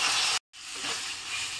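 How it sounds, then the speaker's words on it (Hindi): Onion, ginger and garlic paste frying in a pan for drumstick and potato curry gives a steady, close hiss of sizzling that cuts out abruptly for a split second, then resumes. "अब ये प्याज अदरक लहसुन का जो पेस्ट हम डाल रहे हैं, इसको हम थोड़ी देर भून ले रहे हैं।"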